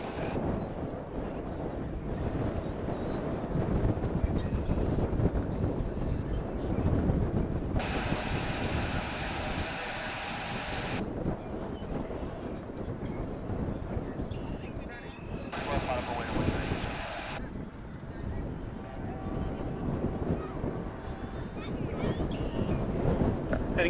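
An American Airlines jet returning to the terminal at DFW airport, with a steady distant engine rumble and wind noise across the whole stretch, occasionally louder, while someone talks over it throughout.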